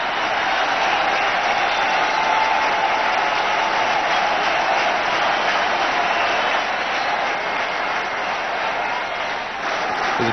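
A big cricket stadium crowd in Kanpur in 1998 roars and applauds Sachin Tendulkar's century against Australia, a loud continuous wash of cheering and clapping filling the whole stretch, easing only slightly near the end.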